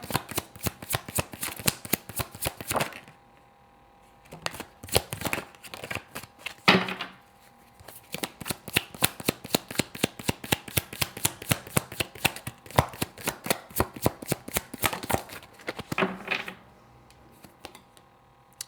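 Tarot cards being shuffled up close in quick, papery riffling bursts, with brief pauses between rounds of shuffling and no voices.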